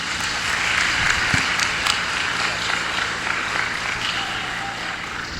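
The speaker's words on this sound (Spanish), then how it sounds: "Un aplauso para el hermano." Audience applause at a Catholic preaching gathering with Father Luis Toro: a steady, dense wash of clapping that holds evenly throughout, with a low hum running underneath.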